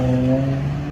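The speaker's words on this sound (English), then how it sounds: "Andrew exits his home and the car sitting out front pulls away." A car outside a house gives a brief, steady engine hum that tails off quickly as it pulls away, with no talk.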